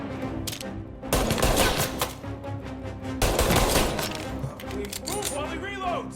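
Gunfire in Mafia: Definitive Edition, dense bursts of shots crackling loudly through two sustained stretches, mixed with game sound and voices.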